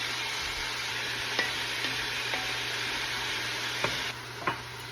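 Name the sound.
celery and fennel sizzling in a pan with olive oil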